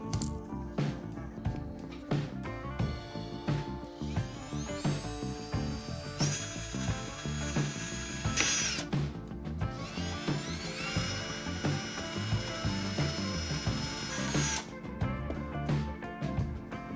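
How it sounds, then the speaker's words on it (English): A rotary tool cuts evenly spaced holes along the rim of a lamp base, giving a steady, close, high-pitched whine in repeated bursts over a constant mechanical rattle, with no talking. "Let's cut evenly distributed holes along the rim of the base so that light penetrates evenly"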